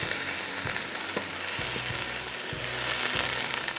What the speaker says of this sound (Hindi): उसको आपने दोबारा से चूल्हे पर रख के पकाना है